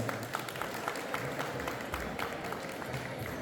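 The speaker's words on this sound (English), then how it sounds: "a big round of applause" An audience at a graduation ceremony gives a steady round of applause, dense clapping filling the hall evenly throughout without pause.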